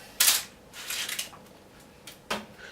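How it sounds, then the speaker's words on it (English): Knuckle taps on the underside of a freshly baked homemade bread loaf come as a few dry, hollow knocks close up, spaced unevenly in a quiet room. "give it a tap on the bottom, it sounds hollow inside, which means it's cooked all the way through"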